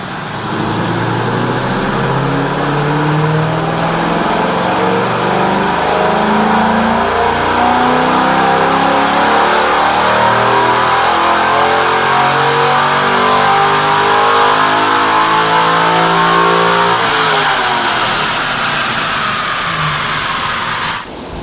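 Engine fitted with a big camshaft revving hard through a full dyno pull, a loud continuous roar with a lumpy, pulsing note that climbs steadily in pitch for about twenty seconds before cutting off.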